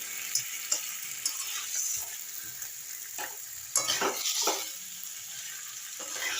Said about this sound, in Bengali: এই সময় আমি মাছগুলো দিয়ে একটু কষিয়ে নেবো তাহলে মাছে না ভালো মশলা ঢোকে